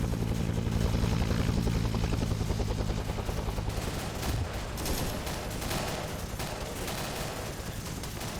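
Dense incoming gunfire and rapid bursts crackle in a video game helicopter ambush, layered over the steady low thrum of rotor blades, loud and continuous throughout.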